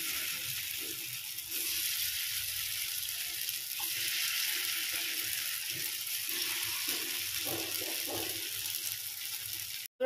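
Flour-coated potato stuffing balls sizzle in hot oil in a pan, a continuous close hiss with faint crackling pops that carries on unbroken for the full length.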